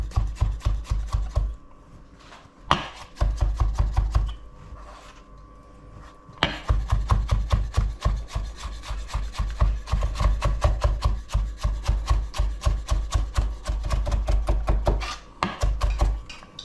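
A knife slices a cucumber on a cutting board in quick, rhythmic close-up chops, sharp regular taps continuing in runs with brief pauses in between.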